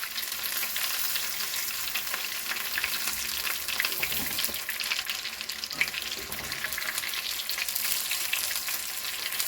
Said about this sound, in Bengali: এইভাবে লাল লাল করে ভেজে সব মাছগুলিকে ভেজে নেবেন